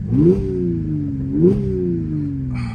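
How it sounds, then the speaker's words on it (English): A 2013 Audi S5 Quattro V6 with its exhaust valves open gives two sharp, throaty revs that rise quickly and then fall away slowly, loud and close with no talking. "it also does open all the valves on the exhaust, because it does give a bit more of a throaty sound on it then"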